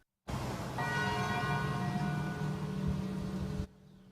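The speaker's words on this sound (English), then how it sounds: "Today, the Anderson Fire Department sounded chimes at 8:46" Memorial chimes sounded by a fire department on the 9/11 anniversary ring as one loud, sustained bell tone with layered overtones, holding steady for about three seconds before cutting off abruptly.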